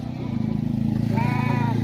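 A flock of sheep bleats at a large livestock market in Egypt, one prominent bleat rising over a dense, close murmur of animals and crowd noise, with someone speaking Arabic nearby.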